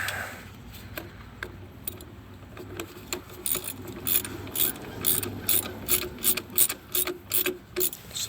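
A ratchet clicks in quick repeated bursts, speeding into steady rhythmic strokes, as bolts are snugged down during an engine and transmission install on a 2011-2023 Dodge Charger with the 3.6L Pentastar, close and clear.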